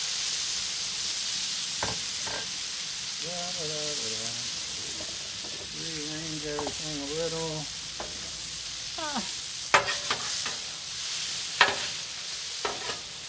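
Shrimp scampi sizzles steadily on a Blackstone griddle in avocado oil, a loud continuous hiss with scrapes and clacks of spatulas near the end and brief speech partway through.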